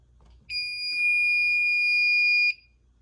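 A building fire alarm sounds during a system test, one loud, steady electronic tone lasting about two seconds with no other sound over it.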